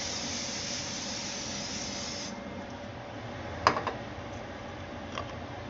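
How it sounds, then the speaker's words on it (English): A steady broadband hiss of an aerosol can of butter cooking spray runs for about two seconds, then cuts off, followed by a few light clicks and taps. "I have the butter spray."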